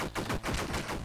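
Rapid gunfire from the video game DLC Quest, a short burst of several quick loud shots fired at a troll, close and alone without speech.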